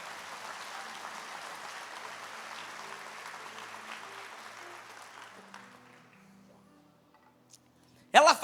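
A church congregation applauds during a worship service, a steady wash of clapping that fades out toward the end before a brief loud voice.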